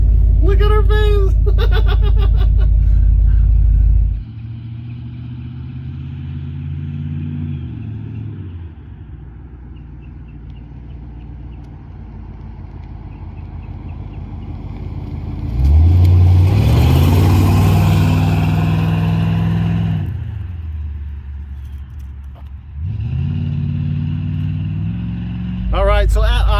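A 1976 Chevy C10 Suburban with a 454 V8 and Flowmaster exhaust rumbles at a mellow idle, then revs up loudly a couple of times before settling, with people talking over parts of it.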